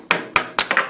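Gentle hammer taps knocking a zinc pulley off an AC motor shaft, four or five sharp metallic knocks in quick irregular succession, close and clear with no talk.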